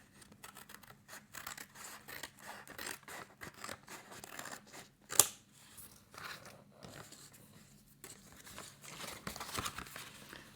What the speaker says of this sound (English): I need to cut this packaging down to the shape that I want it, so I'm thinking, I need some bigger scissors